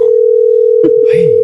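A steady, loud telephone dial tone holds while someone places a call to her mother, with brief clicks and a short burst of voice near the end.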